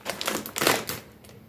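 Dry spaghetti snapped by hand for soup, giving a quick run of sharp, dry cracks and crisp snaps close by, several breaks in a row with no talking.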